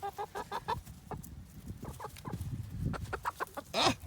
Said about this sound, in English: Michael, you gonna give the chicken some bread?